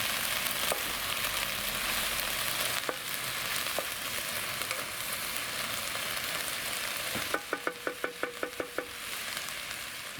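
Food sizzles and crackles steadily in a hot pan on an outdoor titanium twig stove, with a burst of quick clinks near the end like a utensil tapping the pan.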